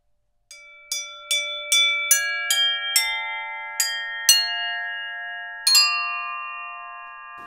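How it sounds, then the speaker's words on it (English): A series of bright metallic strikes on an aluphone with hard mallets, about ten in all, each ringing with clear sustained bell-like tones that overlap and hang in the air. "Sound somewhere between that of the vibraphone and the bell."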